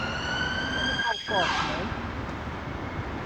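An emergency vehicle siren wails steadily, shifting pitch partway through, with traffic rumble underneath and a voice briefly audible.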